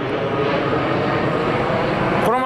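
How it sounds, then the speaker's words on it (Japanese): An airplane passes low overhead on its descent to Itami airport, heard from outside Shin-Osaka station: a loud, unbroken jet roar that holds steady for the whole moment. "伊丹に降りる飛行機がこいつすぐ上のところ飛んでくんですよね。"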